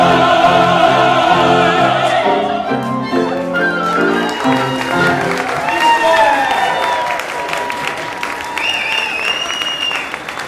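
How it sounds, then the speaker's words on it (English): As an orchestra's last sustained chord fades at a memorial concert, applause for the artists and orchestra swells in and carries on, with cheering voices rising over the clapping. "Give a round of applause to all our wonderful artists today, orchestra as well."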